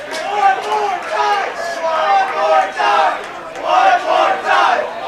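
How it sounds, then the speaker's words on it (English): A rowdy crowd at a high school baseball game at the Burger Sports Complex, Bowie Bulldogs against Westlake, cheers and yells in loud, rising waves of overlapping voices. "our crowd is getting rowdy here at the Burger Sports Complex"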